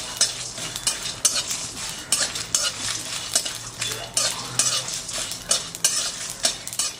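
Whole spices dry-roasting in a pan with no oil, stirred continuously so a utensil scrapes and rattles in quick rhythmic strokes over a light sizzle, close and fairly loud, with no voices.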